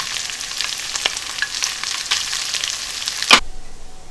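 Peppers tossed into a hot pan for Thai holy basil chicken, hissing and sizzling loudly and steadily with occasional stirring scrapes, close and alone, cutting off abruptly near the end.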